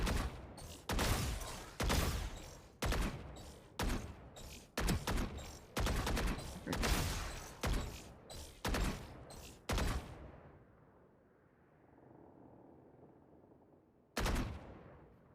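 Rapid bursts of gunfire from the shooter game Valorant, a dozen sharp loud shots in uneven rhythm, then a lull of faint background hum before one final shot.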